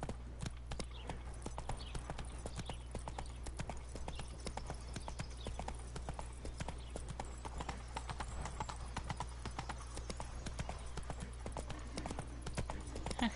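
Roach, the horse in a video game, trots with a steady rhythmic clip-clop of hooves at an even pace over a constant low hum, quiet and unbroken throughout.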